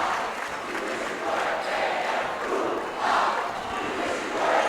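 Home crowd roars and cheers at a Sacred Heart Prep boys basketball game against Menlo, a dense, loud wash of voices that swells in waves throughout, with a big surge near the end.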